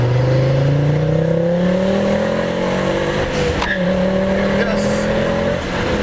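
Tuned Ford Fiesta ST engine pulling hard while driving, a loud, steadily rising engine drone climbing through the revs with a gear change partway through, heard from inside the cabin with a brief spoken word.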